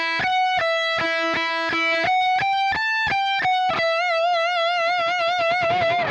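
Distorted electric guitar plays a climbing melody line from a solo, a run of sharply picked sustained notes ending on a long, wavering vibrato note, loud and alone.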